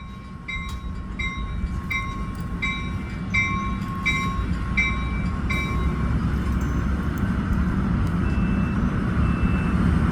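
A Capitol Corridor passenger train 732 hauled by a Siemens locomotive rumbles past at a station in Santa Clara, a steady heavy roar under a rapid series of repeated warning beeps that fade after several seconds.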